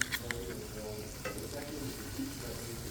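Chicken noodle stir-fry being tossed with a spatula in a hot pan, giving a steady close sizzle with scraping and clinking strokes over about three seconds.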